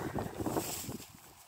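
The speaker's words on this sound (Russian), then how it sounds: "мне ветер сейчас на улице смущает, потому что опять протянет" Gusty outdoor wind buffets the microphone in a brief, loud rush that fades and softens toward the end.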